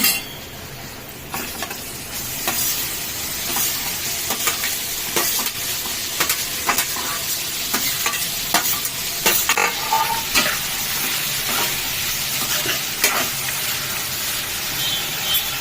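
Tomatoes tossed into fried onions in a pan make a steady sizzle, with repeated scraping stir strokes and occasional light clinks of utensil against pan running throughout.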